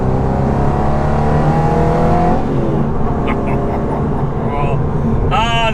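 An Aston Martin GT8 engine revs hard on the move, a loud, close, rising and falling growl with gear changes, and someone talks over it.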